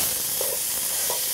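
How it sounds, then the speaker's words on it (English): Ground turkey hitting a hot pot for chili, a steady bright sizzle and hiss with a couple of brief stirring scrapes, close and continuous with no voices. "I'm going to place the turkey inside the hot pot, and it's going to have that great sizzle to it"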